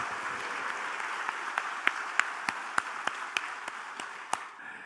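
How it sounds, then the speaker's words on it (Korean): Easter Sunday congregation applause in church: a faint, steady spread of many clapping hands, with a few sharper individual claps popping out near the front before it fades away. "크게 박수로 한번 영광을 올리겠습니다."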